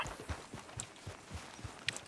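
Soft, steady clip-clop of horse hooves in Red Dead Redemption 2 at a brisk walking rhythm, faint and even throughout.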